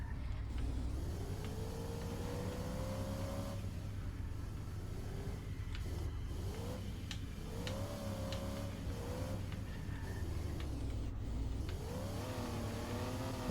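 Engine of the Spinebuster car in a racing video game at speed, a continuous droning whine that climbs repeatedly through gear changes, heard steadily and fairly faint with no talking.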